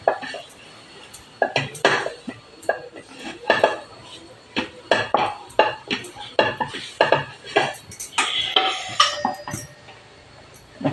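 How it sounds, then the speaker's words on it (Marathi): Banana burfi mixture stirred in a metal pan over a low gas flame, a spoon scraping and clanking against the pan in irregular bursts, close and clear, with brief quiet gaps and a faint voice now and then. "जरा हे चांगलं परतून घ्यायचं आहे बारीक गॅसवर"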